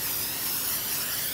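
Cooking spray hisses in one short, steady burst onto a casserole dish for a pizza casserole, fairly faint and close, with no talk.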